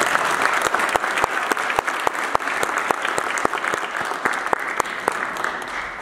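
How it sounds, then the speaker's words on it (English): Audience at an Albanian-American community event in New York City breaks into sustained applause, a dense wash of many hands clapping with sharper individual claps standing out throughout. "I ask that you all give yourselves a round of applause"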